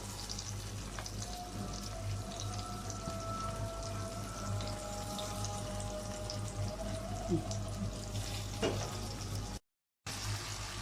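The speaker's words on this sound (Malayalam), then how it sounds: "എണ്ണ ചൂടായി കഴിയുമ്പോൾ നന്നായിട്ട് നമുക്ക് ഇതേപോലെ ആ കോളിഫ്ലവർ ഒക്കെ ഒന്ന് വറുത്തെടുക്കാം." Cauliflower fries in hot oil with a continuous, even sizzle and light bubbling crackle over a low background hum, broken briefly by a gap of silence near the end.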